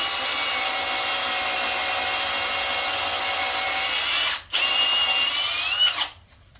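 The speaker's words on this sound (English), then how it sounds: "it's really draggy on the drill bit, because this is a fully charged battery, and normally this drill would be spinning really freely." A cordless drill bores steadily into a gummy Chev V6 3-litre engine block at a head bolt thread, its loud continuous whine dragging on the bit, briefly pausing near the end before resuming and stopping.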